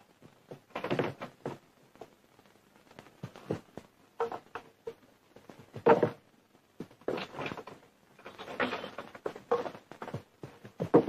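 A wooden door's latch bolt is slid back and the door opened, heard as a series of close, clattering knocks and thunks in bursts, with a few louder rattles, in an older Hindi film scene.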